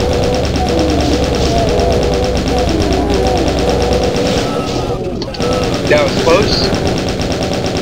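Rapid, steady chain gun fire in the video game Doom II rattles continuously for several seconds, then stops, followed by scattered game effects, with someone talking briefly over it.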